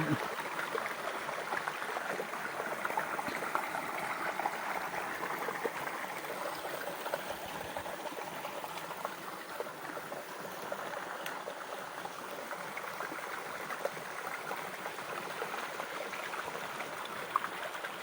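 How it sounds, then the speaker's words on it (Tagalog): A clear forest stream flows in a steady, faint wash of water that runs on without a break and without any voices. "malinis tuloy tuloy ang daloy ng tubig"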